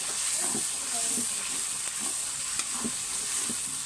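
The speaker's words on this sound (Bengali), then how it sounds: "আদা বাটা এটা দিয়ে একটু কষিয়ে নেব হালকা করে" Beef frying with ginger paste in a pan hisses in a steady loud sizzle, punctuated by rhythmic scraping strokes of a stirring spoon every half second or so, with no voices.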